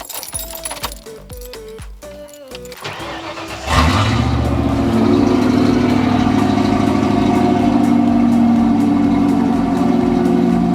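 Keys rattle before a 1995 Ford F-150 engine cranks and fires, then settles into a loud, steady idle heard up close for the rest of the stretch.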